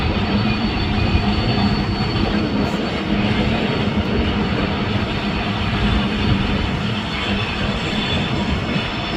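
A freight train engine rumbles continuously on the Tehachapi Loop, a steady loud mechanical drone with broad low roar and no talk, heard from an outdoor vantage point.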